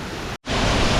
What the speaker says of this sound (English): I think this is the waterfall that we came to find.